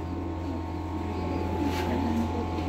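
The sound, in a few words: pigeons cooing at a pigeon market in Sialkot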